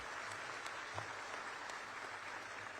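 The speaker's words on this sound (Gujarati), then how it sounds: "તાળીઓ સાથે તેઓનો આભાર વ્યક્ત કરીશું" An audience at a Gandhidham municipal corporation development event attended by the Chief Minister claps steadily, a dense, even wash of applause from a large crowd throughout.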